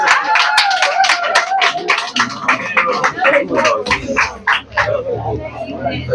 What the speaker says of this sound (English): clap for him once again.